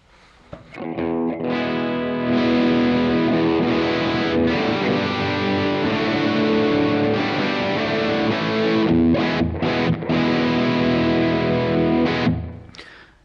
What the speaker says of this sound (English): So linear basically gives us a purely transparent tone.